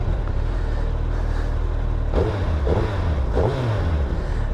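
2023 Suzuki Hayabusa motorcycle engine idling in first gear with a loud, steady rumble, then three quick revs that climb and fall back, heard close up.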